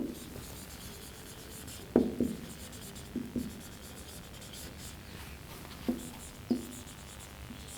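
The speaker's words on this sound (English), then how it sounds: "Then we write the statement" Pen on paper as a math statement about grain bags is written out, giving faint, scratchy rubbing strokes with a few sharper taps, soft and close over a steady background hiss.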